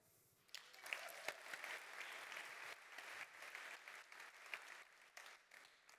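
Audience applause at a sustainability conference, steady and moderately distant, continuing for several seconds with scattered sharper claps standing out.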